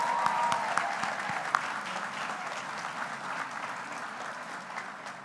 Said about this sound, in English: Could we give all of them another round of applause?